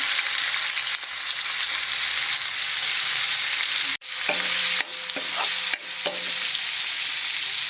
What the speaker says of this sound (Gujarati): ડુંગળી શેકાવા લાગી છે